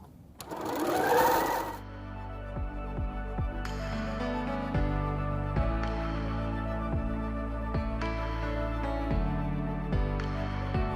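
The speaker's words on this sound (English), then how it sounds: "Then I can sew all of these together." Sewing machine running steadily while stitching quilt pieces together, its rapid needle rhythm continuous and close after a brief louder rustle at the start, with no talking.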